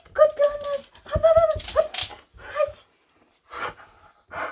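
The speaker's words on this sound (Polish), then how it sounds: "A teraz poznacie mojego pieska." A small dog whimpers and gives short yips in a few separate bursts, fairly close by, with pauses in between and brief breathy sounds mixed in.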